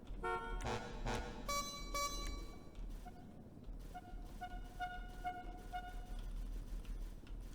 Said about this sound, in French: Le klaxon, bien évidemment.